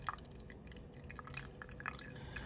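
Dechlorinated Brita-filtered water poured slowly into a guppy jar, a faint steady trickle with small drips and splashes, quiet and close, with no voices.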